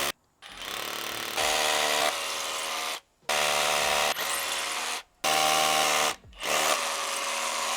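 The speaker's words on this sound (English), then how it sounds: "I'm going to be using a hammer drill to drill into the concrete" A hammer drill bores into concrete for fence post holes in repeated bursts of steady, loud grinding and rattling, each lasting about one to two seconds, separated by short silent pauses.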